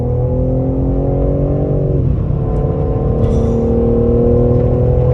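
A 510 hp BMW M3 Competition on a race track, its engine a loud close drone that pulls upward, dips at a gear change around two seconds, then climbs again steadily, with no talking.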